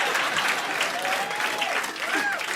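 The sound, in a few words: audience applause for comedian's father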